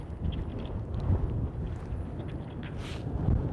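Strong gusting wind buffets the microphone at SpaceX Starbase, Boca Chica, Texas, a steady low rumble with swelling gusts and faint rattling in the background.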